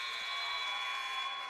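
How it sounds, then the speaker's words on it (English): A basketball game-ending buzzer at a high school game sounds as one sustained, loud, harsh electronic tone that holds steady throughout, with faint crowd noise below. "And the buzzer sounds."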